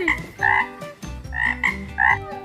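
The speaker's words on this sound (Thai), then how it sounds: "เฮ้ยกบจริงๆด้วย" A frog croaks repeatedly up close, roughly four loud, buzzy calls in quick succession with short pauses between them. No one speaks over the calls.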